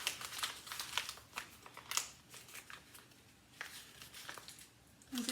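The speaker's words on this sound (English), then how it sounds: "And we're gonna crumple it up." Thick paper, heavier than regular sheets, crumpled by hand into a ball: a close, crisp run of crackling crinkles in bursts with short pauses, no talking.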